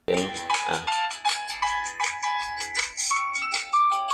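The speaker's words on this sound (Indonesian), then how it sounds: "kalau teman-teman dengarkan di HP ini keluar musik ya" Tinny music plays from a mobile phone speaker in a car-audio repair setting, a bright melodic tune with bouncy rhythmic notes, fairly close and alone.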